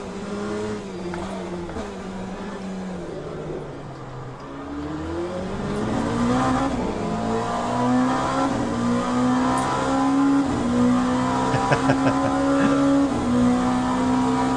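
Race car engines in Assetto Corsa Competizione at the Zolder circuit, rising and falling revs with gear changes and a steady drone growing louder over the stretch.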